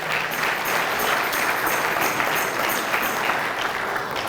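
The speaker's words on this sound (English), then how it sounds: "So give him a round of applause." A church congregation at a 38th anniversary service applauds a member of parliament, with even, continuous clapping from a sizable crowd throughout.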